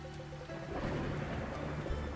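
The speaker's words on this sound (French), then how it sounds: "Oh, il pleut." Steady broadband rain patter from the farming video game Cornucopia, a continuous soft hiss with low rumble underneath, moderately quiet and unbroken throughout.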